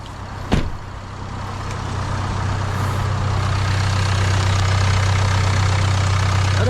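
A nearly new Range Rover Evoque with very low mileage starts with a brief sharp crank, then its engine settles into a steady, loud, even idle hum that continues unbroken.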